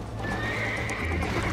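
A horse in the Western game Red Dead Redemption whinnies over steady hoofbeats and game sounds, loud and close, with no talking.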